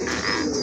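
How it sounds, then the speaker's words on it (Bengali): A brief, close, soft coo from a Bombay pigeon in a pair kept for sale. "মাশাআল্লাহ আরেক জোড়া কবুতর"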